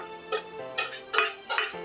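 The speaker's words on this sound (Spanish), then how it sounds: "Lo mezclan muy bien" Metal utensil scraping and clinking in a pot as cod is mixed with fresh chopped parsley, four short bursts of stirring, close and moderately loud with no talk.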